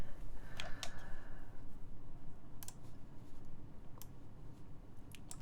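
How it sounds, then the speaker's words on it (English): Typing on an Orbit 65 mechanical keyboard with a half alloy plate, MX Black switches, no foam and GMK Moomin keycaps: sparse, crisp key clicks over a steady low hum, some strikes sharp and isolated, others in quick pairs. "This is a Orbit 65, built with a half alloy plate and MX black switches, no foam, TX Staps, and GMK Moomin."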